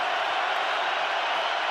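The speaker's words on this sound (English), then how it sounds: "Crowd roaring." A football stadium crowd during an NFL game between the Seattle Seahawks and Kansas City Chiefs, a steady, dense roar of many voices without break.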